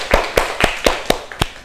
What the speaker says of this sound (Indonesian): Beri tepuk tangan untuk kelompok 1